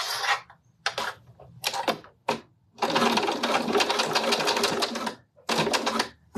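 A sewing machine stitching around a fabric tab on a zipped pouch: close, loud bursts of rapid mechanical stitching, several short runs separated by pauses, then one long continuous stretch and a final burst.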